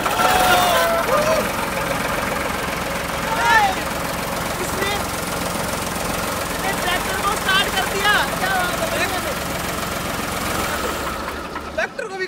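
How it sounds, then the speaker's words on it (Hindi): A tractor that had a flat battery runs after being started with a portable car jump starter. Its steady engine drone fills the whole stretch, loud and close, with voices heard over it. "इसने ट्रैक्टर को स्टार्ट कर दिया जिसकी बैटरी डाउन थी"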